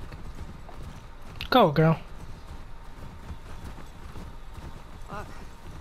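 Horse hooves while riding in The Last of Us Part II, a faint steady clip-clop under a brief spoken line, with a short neigh cutting in near the start.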